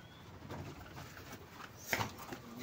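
Faint bird calls and soft cooing sound inside a hollow cave with many nests, with one brief sharper chirp standing out near the end.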